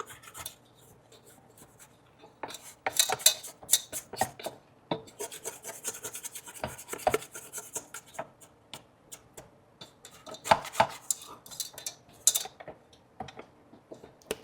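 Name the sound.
scraping down the edges of a bowl of dough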